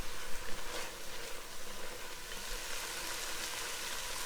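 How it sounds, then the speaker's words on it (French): Garlic cooks in chicken broth in a saucepan, giving a soft, steady sizzle and bubbling that runs quietly and evenly throughout. "je rajoute l'ail, comme ça je suis sûr que mon ail il ne va pas brûler sur le fond de la casserole"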